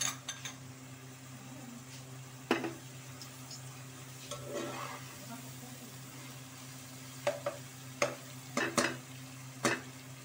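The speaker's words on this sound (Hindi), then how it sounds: "इनको एक दो दफ़ा अच्छी तरह से हिला दीजिए ताकि सारे मसाले मिक्स हो जाएं" Spices and finely chopped tomatoes frying in a pan for a Nargisi kofta gravy, a low steady sizzle with scattered sharp clicks and scrapes of a spoon stirring, close and fairly quiet.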